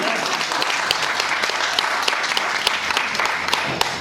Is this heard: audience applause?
yes